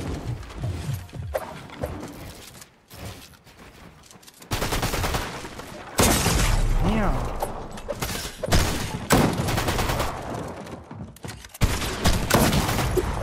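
Dense gunfire fills a Fortnite match as rapid automatic bursts and sharp shots come through a wall, loud and close, with short pauses between volleys.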